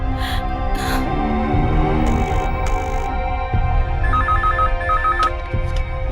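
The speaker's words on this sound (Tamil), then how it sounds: "சரி, மெடிக்கல் சென்டருக்கு ஃபோன் பண்ணி பாப்போம்." A telephone rings repeatedly on a call to a medical center, with electronic ring bursts and a warbling tone over a steady music bed in a TV serial scene.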